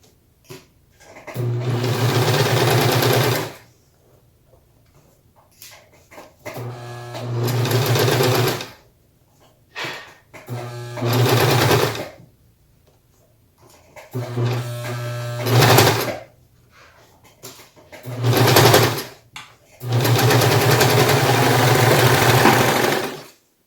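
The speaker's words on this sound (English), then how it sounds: "So I'm gonna serge these sides" A serger overlocking the sides of a fabric face mask, running in several loud close bursts of rapid whirring stitching separated by short pauses.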